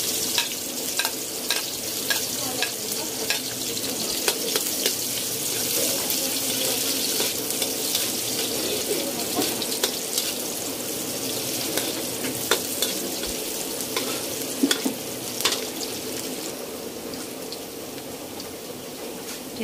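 Onion and garlic sauté in oil for a Filipino ginisang ampalaya with century tuna. A continuous close sizzle lasts the whole stretch, punctuated by occasional stirring scrapes and clinks, and no one speaks.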